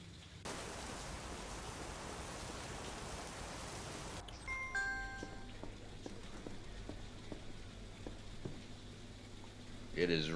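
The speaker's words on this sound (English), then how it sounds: "It is raining like crazy." Heavy rain pours in a video game set in New York, a dense steady hiss for about four seconds that suddenly cuts off, leaving quieter tones and faint taps.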